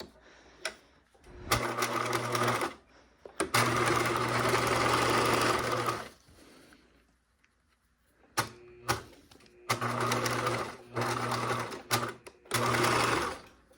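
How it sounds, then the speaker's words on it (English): A sewing machine top stitching a pocket on a fabric caddy bag runs in several loud, close bursts of rapid mechanical whirring and clatter, separated by short pauses and a few clicks. "I am top stitching this, but technically you don't have to, it's just a basting stitch."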